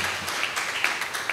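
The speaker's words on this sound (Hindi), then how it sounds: "क्या लोग तालियां बजा सकते हैं खुदा के जलाल के लिए?" Crowd applause at a church sermon, a steady wash of many hands clapping at moderate loudness with a few sharper claps standing out, no voices over it.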